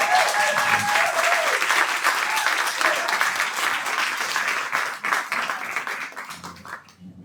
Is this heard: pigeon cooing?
no